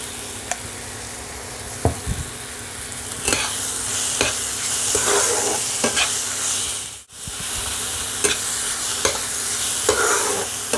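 Pomfret fish sizzles steadily in a hot pan with turmeric and raw mango, loud and close, as a spatula repeatedly scrapes and stirs through it with short rhythmic strokes.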